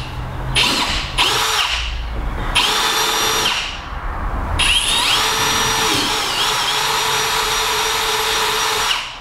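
Power drill boring holes for rib nuts during a wrap job on a Roush Mustang, several short loud whining bursts followed by a longer sustained drilling run.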